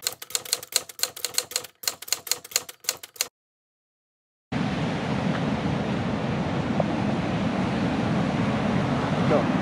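Waves on a beach in Santa Teresa, Costa Rica make a steady, full roar of surf after a burst of rapid clicking and a short silence.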